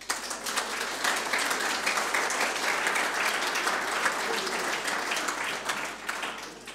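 An audience at a European conference applauds, a dense, even wash of many hands clapping that carries steadily for several seconds from a large hall.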